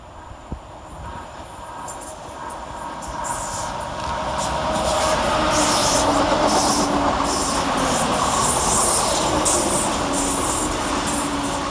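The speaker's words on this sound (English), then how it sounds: "Quickly following right on its heels is 168325 and 168004, working 1G14 from London Marylebone to Birmingham Snow Hill." Passenger trains 168325 and 168004 pass through Tyseley station, the rumble rising from moderate to loud and close, with rhythmic clickety-clack over the rail joints and faint wheel squeal as the carriages roll by.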